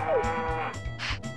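A cow in Harvest Moon 64 gives several short, synthetic game moos in quick succession, clear and close, with a pitched rising tone at the start and a brighter burst near the end; no talking.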